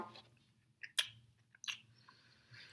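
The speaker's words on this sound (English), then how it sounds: "I'm going to take a bite." A Snickers bar being bitten and chewed close to the mouth, with a few soft sticky crunches and clicks, quiet and isolated with no talking.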